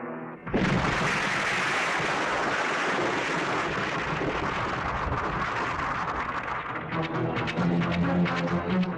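A sudden loud explosion blast erupts, followed by a sustained roaring rumble with crackling debris that continues for several seconds, with no voices.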